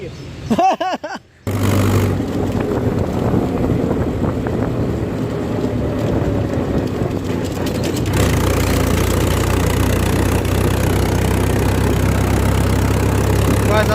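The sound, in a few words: Mahindra 475 DI tractor engine idling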